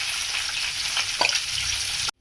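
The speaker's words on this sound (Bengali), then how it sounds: "আমি মাছের মাথাগুলো ভেজে নেবো এতে" Fish heads frying in mustard oil in a wok give a loud, steady, close-up sizzle with a brief spatter near the middle, ending abruptly with no talking.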